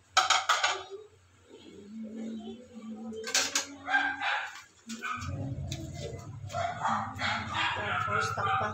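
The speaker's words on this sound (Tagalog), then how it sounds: "Ang ingay ng aming mga aso." Dogs bark and yip in the background, mixed with clattering pots and a person talking nearby.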